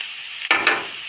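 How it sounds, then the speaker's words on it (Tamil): Cabbage and capsicum hitting a hot pan, a short burst of sizzling that starts abruptly after a quiet moment, with a couple of quick stirs. "இப்போ நல்லா ஒரு டூ மினிட்ஸ் நல்லா வதங்க விட்டுடலாம்"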